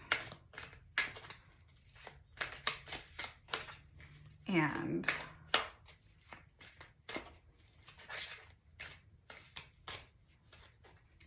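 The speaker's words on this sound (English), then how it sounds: "Now I'm going to shuffle" A tarot card deck is shuffled by hand in close, quiet, rapid riffling bursts across the whole stretch, with soft talk mixed in.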